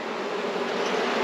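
Honeybees drone around an open hive during an inspection of a new swarm, a continuous close, even buzz with no talking.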